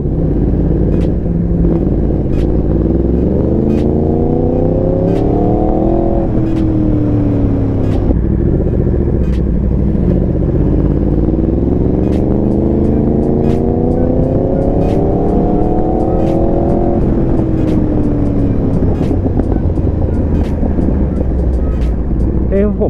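A Yamaha R1M sport motorcycle revs hard through repeated rising gear pulls, its engine note climbing, dropping at shifts and climbing again, loud and close throughout, with a person talking over parts of it.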